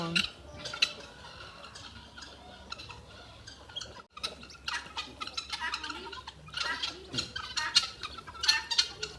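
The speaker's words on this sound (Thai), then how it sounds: "อันนี้คือไก่งวงไม่ใช่หรอคะ" A turkey gobbling at a small farm in rural Serbia, with repeated rattling calls and other bird and farmyard noises close by in the open air.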